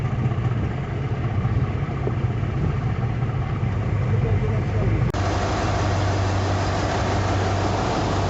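Engines of the WW2 motor launch Medusa run aboard at speed, a loud continuous drone and rumble whose pitch drops and settles midway as the throttle changes.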